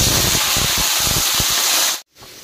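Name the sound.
vegetables frying in hot oil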